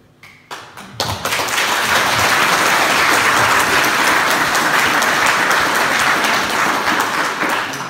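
An audience bursts into sustained applause after a few scattered early claps, a dense, steady roar of many hands clapping that stays loud for several seconds without any talk.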